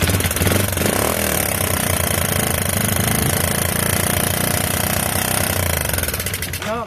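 A 1986 Yamaha YFM Moto4 200 ATV engine with its carburetor out of adjustment runs at a high, rattly idle, loud and close and steady throughout, fading slightly at the very end.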